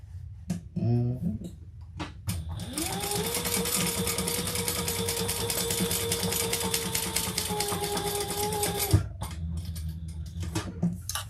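A sewing machine running a continuous top stitch, a steady whirring hum lasting several seconds between short bursts of nearby talk before and after.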